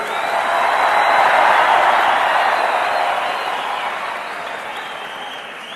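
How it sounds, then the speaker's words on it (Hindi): A large crowd claps at a political speech by PM Narendra Modi in Gujarat, loud, dense applause that swells early, then slowly thins and fades toward the end. "ये आपके तालियों की गूंज पोरबंदर तक सुनाई जा रही है।"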